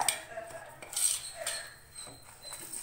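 A spoon stirs rava idli batter mixed with tempering and grated coconut in a bowl, giving faint close clinks and scrapes of metal against the dish, quiet and alone.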